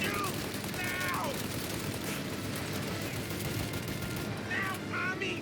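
Dense, continuous gunfire rattles through a shootout in Mafia Definitive Edition, a steady barrage under excited shouting voices.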